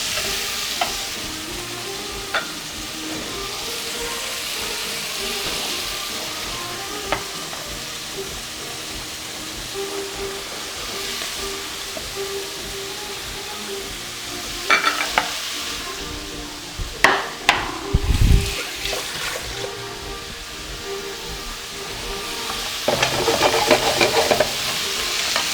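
Chicken livers and hearts frying in a pan for a Persian dish, with a steady sizzle throughout, punctuated by scraping spoon stirs and a few louder clanks against the pan.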